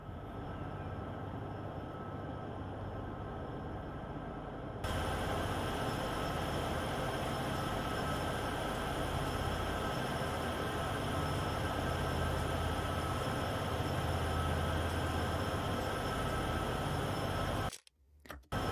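A heavy freight train grinds up Sherman Hill in Train Sim World 2 with steady diesel engine drone and rail rumble, a constant loud wash that jumps in level early on and cuts off abruptly near the end.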